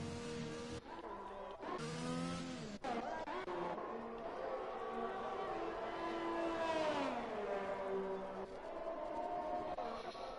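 Formula 1 cars scream through engine revs in the video game F1 2021 at the British GP, with rising and falling high-pitched whines from cars passing and accelerating, steady and moderately loud throughout.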